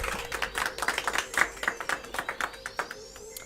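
Light applause from a small gameshow audience, a scattering of quick claps with a few sharper peaks, moderately close and steady for a few seconds without talk.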